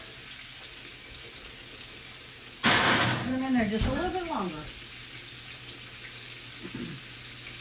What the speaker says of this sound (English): we're going to add just a little bit of water to it